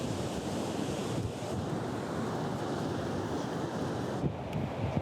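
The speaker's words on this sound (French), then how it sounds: "Aujourd'hui, les vagues, elles sont un petit peu grosses." Ocean waves breaking on a beach in the Basque Country, a steady, loud roar of surf mixed with wind noise and no break in the sound.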